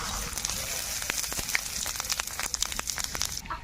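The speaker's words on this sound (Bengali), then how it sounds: "তেলটা গরম হয়ে গেছে, 5 ফোড়ন আর তেজপাতা দিয়ে দিচ্ছি।" Panch phoron and bay leaves hitting hot oil in a kadai give a steady close crackling sizzle with scattered sharp pops throughout, with no talk.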